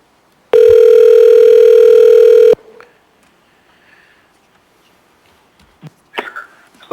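A telephone call placed over a public meeting's audio system: a loud, steady dial tone holds for about two seconds and then cuts off. Faint room noise and a few short clicks and knocks follow.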